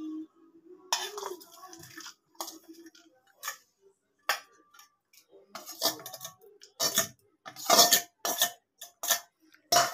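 Grated garlic being stirred into oil in a bowl, heard as a run of separate clinks and scrapes of a utensil against the bowl that turn louder and more frequent toward the end.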